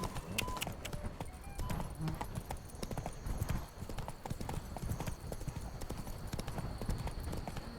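Roach the horse trots along in Witcher 3, her hooves clip-clopping in a quick, steady rhythm, with a brief whinny and faint game ambience under the footfalls.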